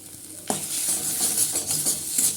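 Curry being stir-fried (bhuna) in a kadai, with a sudden scrape of a spatula against the pan followed by steady sizzling and repeated stirring scrapes, loud and close, with no talking.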